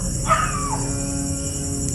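A single short dog yelp rises and trails off, fairly distant, over a steady background hum.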